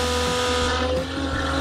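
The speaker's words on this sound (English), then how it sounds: "So the pump noticeably changes noise when it's finished." An RV black tank pump emptying at home gives a steady droning whine with strong tonal hum, dipping briefly partway through, close and continuous with no talk.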